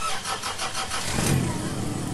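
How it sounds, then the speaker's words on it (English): A bus engine starts up in a video game, a broadband mechanical rumble that builds and holds steady at a fairly loud level with no talking over it. "Okay, the bus started."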